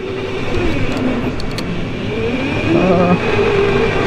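A go-kart engine drones steadily as the kart drives around an indoor track, a continuous loud motor hum with rising and falling pitch and a brief clatter early on.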